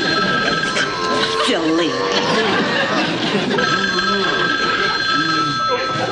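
An old-fashioned telephone bell rings continuously in a sitcom scene, while voices talk and laugh over it.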